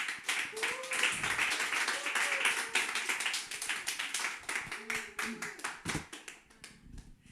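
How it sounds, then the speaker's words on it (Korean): An audience at a church worship service claps to welcome a speaker, a sharp rapid patter of many hands that thins out toward the end, with some voices mixed in. "김성미 간사님 박수로 맞이하도록 하겠습니다"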